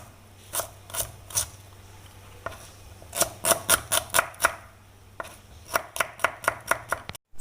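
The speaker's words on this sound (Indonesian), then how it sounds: "Sekarang kita akan mengiris bawang merah ini untuk kita blender ya." A knife chops through shallots on a cutting board in a kitchen, sounding as crisp, close knocks in quick bursts of several strokes separated by short pauses, with a low hum underneath.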